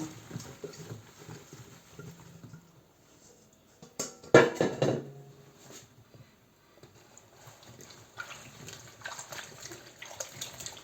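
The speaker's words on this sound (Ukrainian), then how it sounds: "Полуницю будемо мити у декількох водах." Fresh strawberries being washed by hand in several changes of water, with soft splashing and dripping, a sharp loud burst of water and handling near the middle, then quieter rinsing, no talk.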